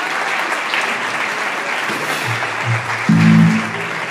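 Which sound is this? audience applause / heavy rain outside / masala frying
audience applause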